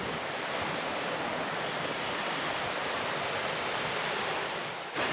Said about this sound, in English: the waterfall cascades down a rocky escarpment, creating a gentle and stunning display of water tumbling over the rocks